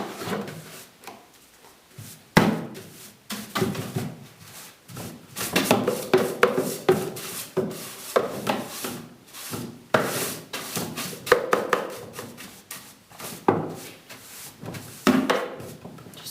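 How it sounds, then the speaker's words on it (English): Hand sanding a Welsh dresser with 240 grit paper during shabby chic distressing: continuous close rubbing strokes in an uneven rhythm, with occasional heavier scuffs and knocks of wood. "we're going to use our 240 paper and give it a once over"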